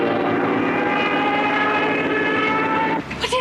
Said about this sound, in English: Luftwaffe night fighter.